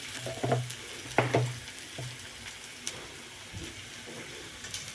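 Onions frying in a pan for coconut poha, a soft steady sizzle punctuated by a few sharp spatula scrapes and knocks against the pan, close and fairly quiet.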